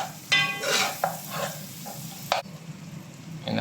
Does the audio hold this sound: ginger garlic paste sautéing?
yes